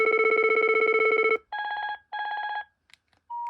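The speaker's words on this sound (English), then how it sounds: "So let's choose a ringtone." A BT2200 cordless phone sounds ringtone previews: a long, loud, rapidly trilling electronic ring, then two shorter pulsed bursts at a different pitch, and a brief beep at the end, heard up close without speech.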